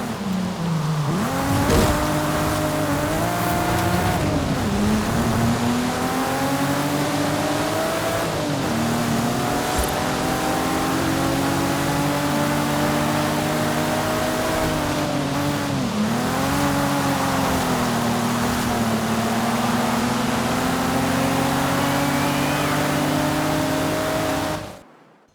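A sequential twin-turbo car engine in Forza Horizon 5 revs hard and continuously, its pitch climbing and dropping through repeated gear changes at loud, steady volume before cutting off at the end.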